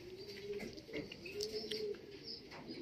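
Racing pigeons at a club race in Lucena coo softly and close by, a few low throaty rolling coos mixed with faint chirps against a quiet outdoor background.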